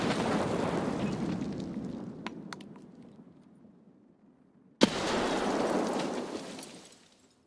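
Two grenade blasts in a video game: a long rumbling explosion fades out with small metallic clinks, then a sharp crack sets off a second roaring burst that swells and dies away.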